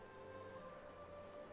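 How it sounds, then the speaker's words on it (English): A steady rain downpour in the Hollow Knight video game, a faint even hiss with a low droning tone beneath, continuous and without talk. "What are you doing out in this miserable downpour?"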